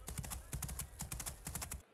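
Horse hooves thudding in a horse riding video game as the horse jumps, a quick rhythmic run of clip-clop strikes at moderate volume that stops abruptly at the end, with no speech.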